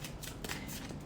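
A deck of tarot cards is shuffled by hand indoors, a close, dense riffling rustle in brief bursts with no talking over it.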